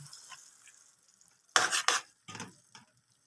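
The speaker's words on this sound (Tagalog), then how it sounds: "Ilalagay ko na itong pork na pinressure cooker ko ito guys." Pressure-cooked pork tips into a pan of cooked tomatoes with a sudden loud sloshing scrape and sizzle, followed by a second shorter burst of stirring against the pan, close and unaccompanied by talk.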